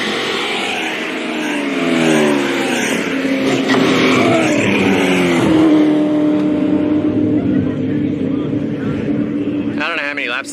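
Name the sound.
supercars accelerating down the main street at Powercruise Sydney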